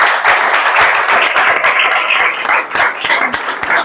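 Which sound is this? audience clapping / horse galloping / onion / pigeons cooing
audience clapping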